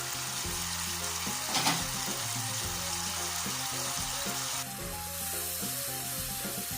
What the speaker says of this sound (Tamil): இது எண்ணெய் பிரிஞ்சு வர வரைக்கும் அடுப்பில் வைக்கிறேன்